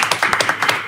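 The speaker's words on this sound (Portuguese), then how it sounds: "Palmas pra Vini Souza." Brief clapping from a small audience on a talk show, several distinct, close hand claps in a quick irregular burst lasting under a second.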